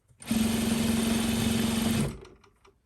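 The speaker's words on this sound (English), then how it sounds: "So I'm just sewing the sides." A sewing machine stitches the side seams of a white party dress in one steady, close, continuous run of about two seconds, then stops abruptly.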